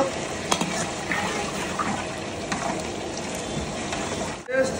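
Cardamom, cinnamon, cloves, cumin and dried chillies sizzle and crackle in hot oil and ghee, a steady close frying hiss with scraping stirs, ending in a sharp clatter.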